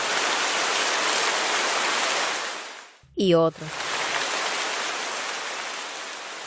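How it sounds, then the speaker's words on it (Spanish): Heavy rain pours in a dense, steady roar that fills the whole clip, broken by a brief pause where a voice speaks before the downpour resumes. "De pronto, cayó un aguacero."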